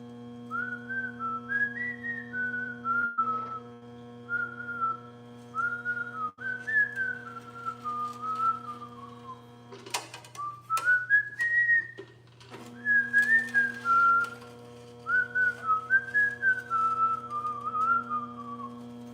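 A person whistles a slow, wavering tune in clear phrases over a steady electrical hum, pausing briefly midway as a few clattering knocks break in.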